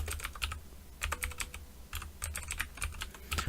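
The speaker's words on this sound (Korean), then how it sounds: "다 타이핑 해줘야 돼요" Rapid keystrokes clatter on a computer keyboard in quick bursts with short pauses, close and crisp over a low steady hum.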